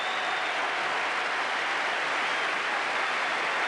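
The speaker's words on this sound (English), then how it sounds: "Tremendous applause" Sustained, dense applause from a cricket crowd giving Viv Richards a standing ovation as he reaches a double century, a loud steady roar of clapping throughout with no gaps.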